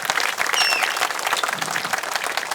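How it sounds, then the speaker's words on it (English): Outdoor crowd at Speaker Corner, Hong Lim Park, gives a short, dense round of applause as a speaker is welcomed on stage, steady clapping for a couple of seconds with a faint whistle. "So please give a round of applause to Mr."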